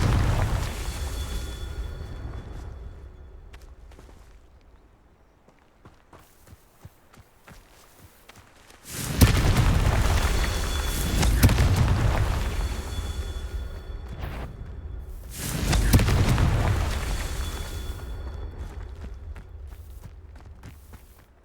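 Spell explosions from the Confringo curse in the video game Hogwarts Legacy on PS5, two loud booming bursts with rumbling tails, each lasting several seconds, following quieter scattered thuds and steps, with no talking.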